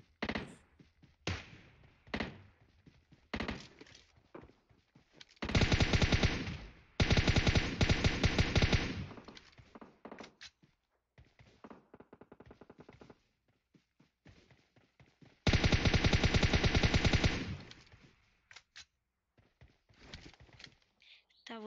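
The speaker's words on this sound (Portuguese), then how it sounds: "Tem tiro aqui pra tudo que é lado" Gunfire in a multiplayer shooter video game comes in bursts of rapid automatic fire and scattered single shots. Several dense, loud volleys are spread across the passage.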